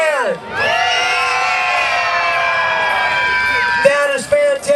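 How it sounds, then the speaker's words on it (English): A crowd of children at an Easter egg hunt screams and cheers loudly and steadily for several seconds, shrill voices blending into one sustained roar before it breaks off into scattered shouts. "scream as loud as you can!"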